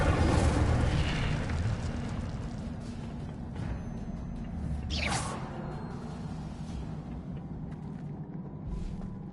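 Incendio fire spell in a wizard video game, a rumbling burst of flame opening loudly, then a sharp whooshing sweep midway and a lingering low roar that gradually settles.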